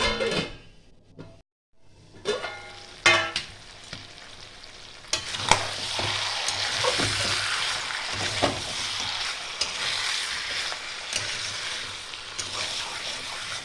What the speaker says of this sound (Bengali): এটা ঢেকে ঢেকে আমি কষানো করাবো।